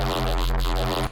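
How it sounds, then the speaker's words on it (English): A thick, buzzy wavetable synth bass tone with a wobbling, shifting timbre, held loud for about a second before cutting off abruptly. "So our source sound is actually something that I pulled from a wavetable"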